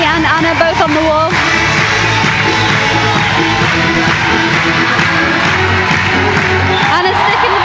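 A big, loud crowd cheers and whoops continuously at a bouldering European Championship semi-final in Innsbruck, with shouts and clapping mixed in as a commentator talks over it.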